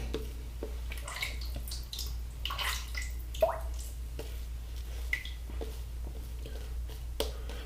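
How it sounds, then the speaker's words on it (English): A touch of water is added to a Creed Green Irish Tweed shave soap lather: small drips, wet squishes and light taps, quiet and close, with no talking. "So let's add just a touch of water to that."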